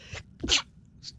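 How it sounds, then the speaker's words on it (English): A single abrupt sneeze bursts out close by, sharp and brief, with a faint breathy sound after it. "That was a very sudden sneeze."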